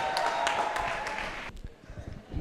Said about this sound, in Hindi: पुरज़ोर तालियों में इस्तकबाल करें